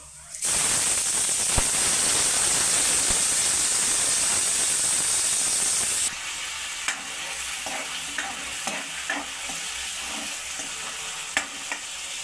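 Onions and cumin seeds fry in hot oil for a Kathiawadi peanut curry, a loud steady sizzle for six seconds that then drops to a softer crackle with scattered sharp pops and spoon clicks.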